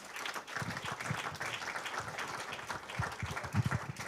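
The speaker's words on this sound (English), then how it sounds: "Big round of applause for our panel." A room of listeners claps for a panel at a community discussion event, a dense, even patter of hands with a few heavier claps, sustained without speech.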